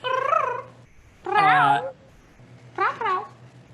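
A person's voice imitates a cat, producing three drawn-out, meow-like calls with gaps between them, the middle one loudest, over a low steady hum.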